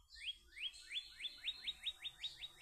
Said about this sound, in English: A bird is like raising the vibration of my consciousness for sure.